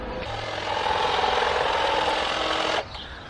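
A light cordless hedge trimmer cuts a messy bush, its blades buzzing in a steady, close, rattling drone for about two seconds before stopping abruptly.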